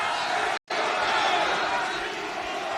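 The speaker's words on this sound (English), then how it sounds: "you hear some people cheering for Mina, some want the CEO to win" Wrestling arena crowd at an AEW TBS title match, a steady loud wash of cheering and chatter that drops out briefly near the start, then carries on unbroken.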